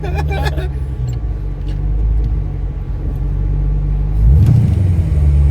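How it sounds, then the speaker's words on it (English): A tuned car sits under heavy, close engine rumble that swells as it accelerates, with a deeper surge near the end; voices talk over the noise inside the cabin. "she got no problems turning these tires over"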